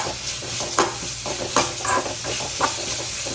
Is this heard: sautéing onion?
yes